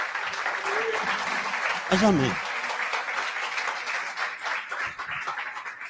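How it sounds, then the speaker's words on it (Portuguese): A church congregation at a Sunday morning communion service applauds, a dense wash of clapping that continues beneath a voice speaking briefly in the middle. "Dá um aplauso ao Senhor Jesus."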